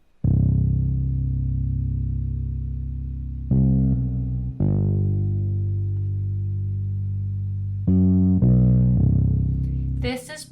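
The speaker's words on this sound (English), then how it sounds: "We have the bass coming in." A distorted electric bass from the Scarbee bass plugin plays long sustained notes with a few quick changes, thick and buzzy through amp and phaser effects, ending in a brief bright burst.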